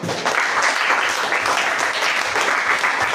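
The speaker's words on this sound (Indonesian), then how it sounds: "Tepuk tangan dulu untuk Willy" A class of students claps for a classmate named Willy, a dense, steady burst of applause lasting a few seconds, close and fairly loud.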